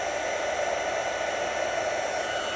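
An embossing heat tool blowing hot air over a papercraft card, a constant loud whooshing hiss with a steady hum that holds unchanged throughout, with no voices.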